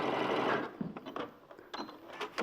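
A sewing machine stitches stretch fabric: a close whirring run at the start, then a few short stop-start bursts and clicks as the stitching slows and halts.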